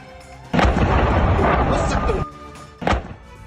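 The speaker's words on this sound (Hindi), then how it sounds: "चार्निहाइव में यूक्रेनी सेना की टुकड़ी पर हमला, जहां रूस ने स्कैंडर मिसाइल से अटैक किया है" A deep, loud blast from an Iskander missile strike in Chernihiv, Ukraine, with a long rumbling roar, then a second sharper boom shortly after.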